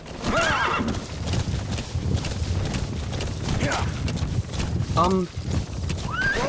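A horse whinnies loudly several times over a busy Metal Gear Solid V: The Phantom Pain soundtrack with hoof clip-clops and background noise, close and prominent.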